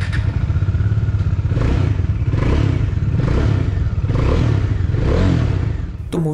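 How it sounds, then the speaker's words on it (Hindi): A 2019 Bajaj Dominar 400 UG fitted with a dual-barrel exhaust runs with a loud, bassy, steady engine note, rising and falling in rhythmic surges before a short clatter at the end. "पर्सनली मुझे ये एग्जॉस्ट नोट बहुत ही ज़्यादा पसंद आया क्योंकि ये थोड़ा सा लाउड है और बेसी भी है"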